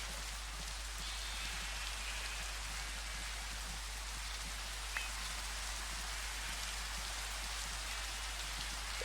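Steady rain in the video game Minecraft, a continuous even hiss of falling drops that holds at a constant level throughout with no voices.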